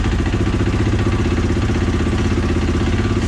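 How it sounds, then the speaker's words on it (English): A KTM 500EXC dirt bike engine idling close by, a steady loud mid-pitched putter with a regular fast beat and slight clatter, its tone settling lower partway through, with no voices. "let's show you how easy it is to start this bike now"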